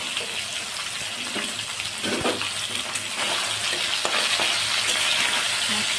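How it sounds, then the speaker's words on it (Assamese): Fish frying in hot oil in a home kitchen while preparing a fish curry, giving a steady, close, continuous sizzle and crackle with small pops throughout, no talking. "চাওক, মোৰ মাছখিনি প্ৰায় ভাজা হৈ গৈছে।"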